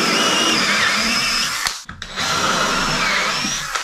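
A power drill with a metal drill bit whines loudly and steadily as it bores into an HPL panel while installing an undermount sink, cutting off briefly midway before drilling on again.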